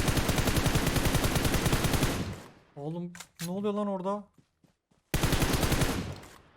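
Rapid automatic gunfire from PUBG Mobile, played as a Livik solo-versus-squad match, rattles in dense bursts at the start and again at the end. Someone speaks excitedly during the quiet gap between them.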